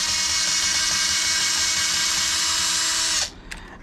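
A power driver with a bit spins steadily for about three seconds while backing a bolt out of a Traxxas HOSS RC truck, a close, loud high whine that cuts off abruptly, followed by a few faint clicks.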